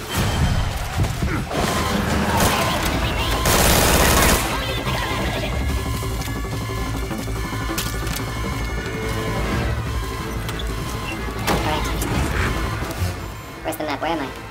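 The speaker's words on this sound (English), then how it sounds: "We've got unidentified gunfire." Gunfire in the video game Metal Gear Solid V, a busy mix of thuds, cracks and mechanical clatter with a louder burst early on, while music and game audio play throughout.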